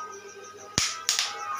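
Melon seeds roasting in a pan pop with two sharp, distinct cracks about a third of a second apart, heard over a low background hiss.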